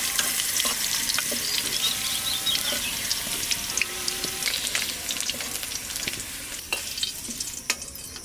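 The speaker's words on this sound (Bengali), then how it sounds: "আমি আলুটাকে হালকা করে ভেজে নিচ্ছি" Potatoes lightly frying in oil for a mutton curry, a continuous close sizzle with scattered crackles and the scrape of stirring, no voices over it.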